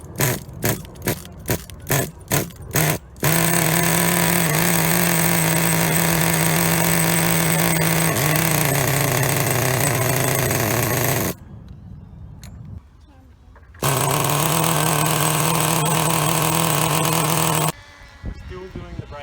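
A Vertex VX18 (18CXP) nitro engine on a 2008 Heng Long Sprint RC car being run in during break-in. It starts with a few short revving pulls, then a loud, sustained buzzing drone that is briefly cut before resuming.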